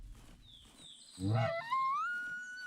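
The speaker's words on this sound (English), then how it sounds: "Why do elk sound so weird?" A bull elk bugles outdoors, a low grunt rising into a long, high, whistling squeal that slides upward and fades, heard from a moderate distance.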